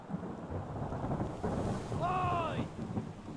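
A thunderstorm in Return of the Obra Dinn: steady heavy rain hiss with a low rumble of thunder, and a brief rising, whistling gust of wind partway through.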